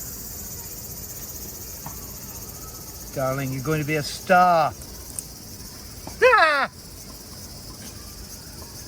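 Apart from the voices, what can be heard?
cicadas singing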